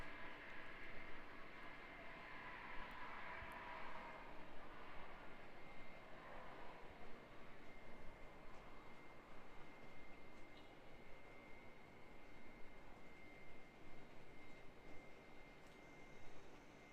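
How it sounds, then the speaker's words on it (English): A Boeing 787 Dreamliner taxies past fairly quickly at Auckland Airport, heading to the international apron. Its engines make a steady, broad jet rumble and hiss that holds at a moderate distance throughout, with no talking. "Quite a fast taxi there for the Dreamliner as it comes past us, heading around to the international apron."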